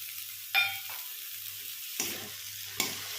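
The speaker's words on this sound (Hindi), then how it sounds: "टमाटर को गलने तक मसाले को अच्छे से भूनेंगे" Spices fry with finely chopped tomatoes in a pan over a medium flame for rajma curry, a soft steady sizzle broken by three short bursts of stirring scrapes, close and without talk.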